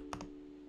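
Two quick keystrokes on a computer keyboard, close and fairly soft over a steady background hum, with no talking.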